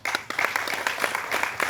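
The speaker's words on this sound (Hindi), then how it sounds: "हम सब ताली बजाएं" Audience at a Hindi book launch in a Hindi Bhavan hall, breaking into sustained, dense applause with many hands clapping at once, loud and close throughout.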